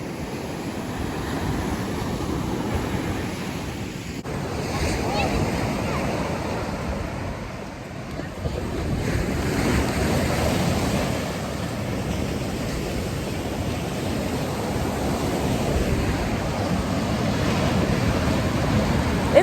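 Ocean surf rolls and breaks continuously on a Hawaii beach at Sunset Beach, a broad, steady wash of waves with wind noise, with no voices over it.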